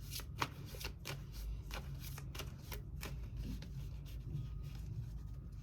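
Tarot cards being shuffled by hand, a steady run of crisp riffling flutters and soft slaps repeating close up over a low room hum, with no talking.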